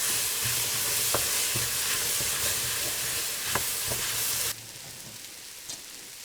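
Tomato puree frying in a pot for seafood stock, a steady loud sizzle with occasional scrapes of stirring, the sizzle dropping off abruptly near the end to a quieter hiss.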